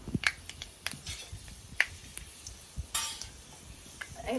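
Fennel and fenugreek seeds crackle in hot oil for a crab gravy, a faint close sizzle dotted with sharp pops and small spattering bursts, heard alone.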